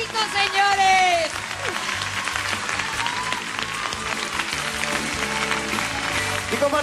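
A studio audience at a Mexican televised singing contest final applauds its 16 contestants. The clapping is dense and sustained, mixed with crowd noise and sung or spoken voices over it.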